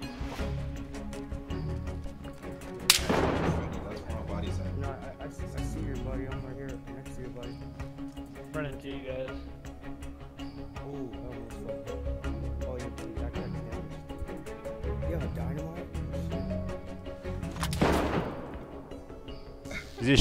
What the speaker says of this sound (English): He's shooting at you at the bottom.